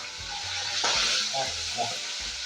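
Fish frying in hot oil gives a steady close sizzle with a louder crackling burst as it settles, while someone talks over the cooking.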